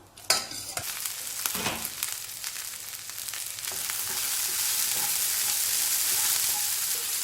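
Cluster beans sautéing in a pan for Chettinad pachadi, a continuous close sizzle building steadily louder, with a few sharp spatula scrapes early on and no talk.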